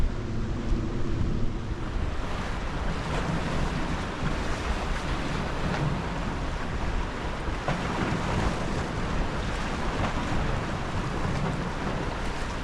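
Strong southwesterly wind buffets the microphone while sea waves surge and break on the shore, a loud, steady roar of gusts and surf with no voices.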